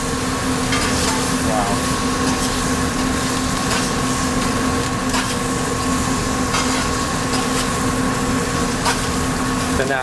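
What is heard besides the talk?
sea robin fish frying in butter and herbs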